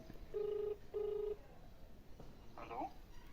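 Two evenly spaced ringback tones sound over a phone line, then faint voices and a brief muffled noise follow.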